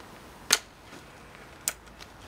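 An Airmaster 90 air rifle gives a single sharp, close snap, followed a second later by a smaller click, against a quiet background.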